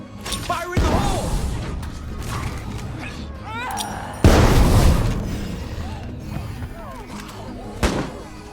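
Explosion in State of Decay 2, a thrown charge set off among zombies. A heavy boom lands partway through, trailed by a crashing rumble and smaller bangs, with someone talking over the game.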